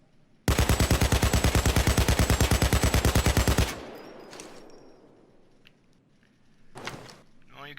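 AKM assault rifle fired in Payday 2 as one loud, fast burst of about three seconds with evenly spaced shots. The burst cuts off into a fading tail, followed by a short, quieter rattle.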